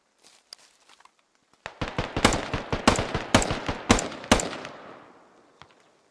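Rapid bursts of machine gun fire in a first-person shooter video game, a dense string of sharp, loud reports after a few faint scattered shots, tailing off into quieter echoes.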